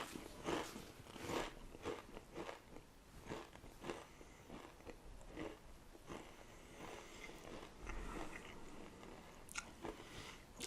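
Hot Ones Barbacoa-flavored Pringles potato chips being eaten up close, with repeated crunchy bites and chewing in an irregular rhythm, quiet and alone without talk.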